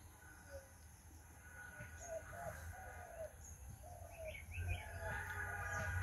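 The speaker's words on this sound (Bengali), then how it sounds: "ঘুঘু পাখি অনবরত ডেকে চলেছে।" A dove coos repeatedly in a rural Bangladesh morning, soft and somewhat distant, mixed with other birds chirping and a low outdoor background hum.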